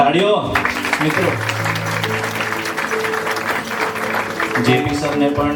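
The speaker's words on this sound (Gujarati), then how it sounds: "તાળીઓ મિત્રો." Audience clapping at a scholarship awards ceremony, sustained and fairly loud across the whole stretch, with a voice talking over the applause and tonal background sound underneath.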